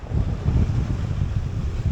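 Steady wind roars across the microphone aboard a sailboat at sea at sunset, with a low rumbling wash of water and waves beneath, continuous and close throughout with no voices.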